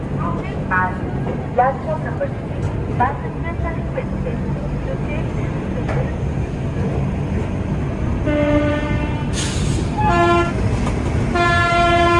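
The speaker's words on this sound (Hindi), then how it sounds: "तो ऑन टाइम डिपार्चर होने जा रहा है हमारी ट्रेन का।" A Rajdhani Express train at a station about to depart, with a loud rumbling idle, repeated horn blasts that grow stronger near the end, and people talking over it.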